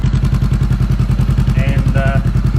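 A 2017 Honda CBR500R fitted with a Delkevic 200mm aftermarket exhaust idles loud and close, its deep, bassy pulsing steady and even throughout, with a brief faint higher tone riding over the rumble near the end.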